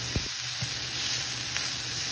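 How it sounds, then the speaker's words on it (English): Vegetables and spinach sauté in a hot pan with a steady, close sizzle throughout, plus a couple of soft stirring knocks near the start. "As you can see, my vegetables are sauteing up nicely."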